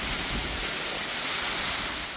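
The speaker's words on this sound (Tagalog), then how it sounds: "Binayo ng malakas na hangin at ulan ang mga punong yan sa Taiwan" Strong typhoon winds with rain lash trees in Taiwan, a steady, dense roar of broadband rushing noise with no letup, close and loud throughout, with no voices.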